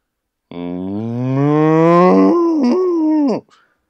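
A person imitates a cow with one long, loud, close moo, a rising drawn-out voiced tone that bends lower near the end before cutting off.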